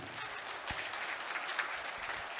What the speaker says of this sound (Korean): 힘찬 박수로 축하받기에 합당합니다